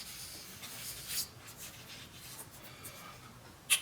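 Pencil sketching on paper for a cartoon drawing, soft faint scratchy strokes coming in brief bursts, ending with a sharper tap, with no voices.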